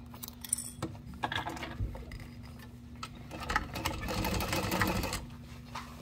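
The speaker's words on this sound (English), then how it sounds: "I'm gonna sew with 1/4 inch seam allowance." A sewing machine stitches fabric at a quarter-inch seam, a close, rapid mechanical chatter that speeds up and slows in short bursts over a low motor hum, with no talking.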